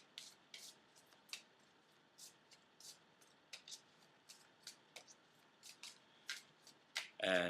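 Tarot cards being shuffled by hand, soft papery riffles and slides coming in irregular short bursts, close and quiet, with a brief louder rustle at the end.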